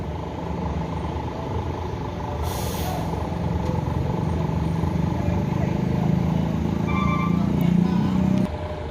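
A bus idles before departure with a steady low diesel rumble, and a sharp hiss of air brakes releasing stands out near the middle. The engine swells toward the end amid background voices and traffic.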